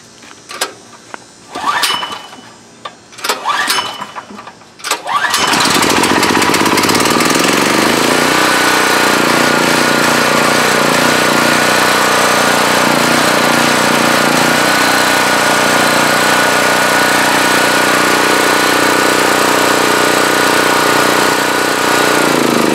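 A portable generator converted to dual fuel and running on natural gas gives several short, uneven pull-start bursts, then catches and settles into a loud, steady, continuous engine drone that lasts to the end.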